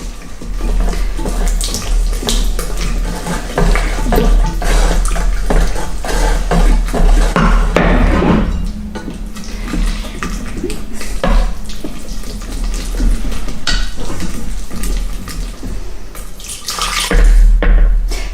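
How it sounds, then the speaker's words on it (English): Vegetable stock is poured into a pan a little at a time while a whisk stirs it for soup, making a continuous watery splashing and sloshing with clinks, close and fairly loud. "I'm going to add it in a little bit of a time and we're going to whisk as we go along."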